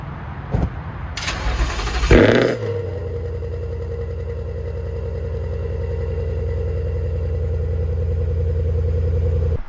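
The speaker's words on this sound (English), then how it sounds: "when the car starts, the valves are open and you hear the car pretty much in normal mode" A Ford Mustang with active exhaust valves open cranks and fires with a loud bark, then settles into a deep, steady idle that rumbles on alone.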